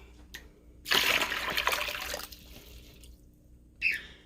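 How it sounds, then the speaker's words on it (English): Water from a betta fish tank being drained during a partial water change, a quiet trickle swelling into a brief burst of splashing pour, then fading, with a short final splash near the end. "so far I got almost halfway through of taking the water out"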